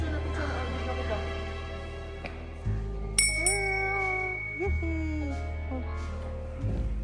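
A bell rung at a site near Mount Fuji in Japan gives several bright metallic strikes with ringing overtones, heard over steady low background rumble and ambient noise, with no talk.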